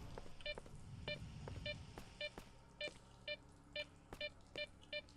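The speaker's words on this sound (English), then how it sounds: "this beeping's going to get annoying down here" Short electronic beeps repeat in an evenly spaced rhythm inside a room in the video game S.T.A.L.K.E.R. (OGSE Shadow of Chernobyl), sharp and moderately clear over a low background hum.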